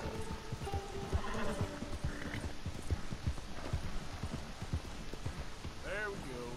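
Horse hooves clip-clopping steadily in the video game Red Dead Redemption 2, a rhythmic close gait with rain-like patter behind, ending in a short whinny.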